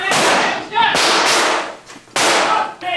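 Gunfire in a shootout during a news report, with three loud sustained bursts of sharp cracking blasts separated by brief lulls, close and harsh.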